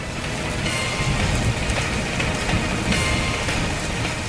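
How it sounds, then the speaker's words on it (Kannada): Heavy rain pours down in a steady, dense hiss of drops striking surfaces, loud and unbroken from start to finish with no voices. "ಮಳೆ ತುಂಬಾನೇ ಜೋರಾಗಿ ಬರ್ತಾ ಇದೆ"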